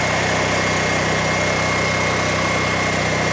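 A backup power generator engine runs steadily while warming up, a loud, close, constant drone with a rapid mechanical throb and no pauses.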